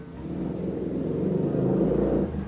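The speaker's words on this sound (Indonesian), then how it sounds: "Motor lewat. Terus aja lewat tuh." A motorbike passes by outside, its engine rising as a low, muffled rumble that swells toward the end and then starts to fade, with no voices over it.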